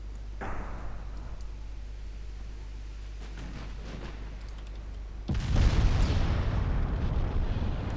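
Naval gunfire in the game Ultimate Admiral: Dreadnoughts, with a sharp shot early on and then a big rumbling blast of shells hitting a light cruiser, loud and sustained over a low drone.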